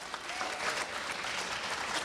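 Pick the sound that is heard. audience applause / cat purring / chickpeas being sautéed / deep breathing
audience applause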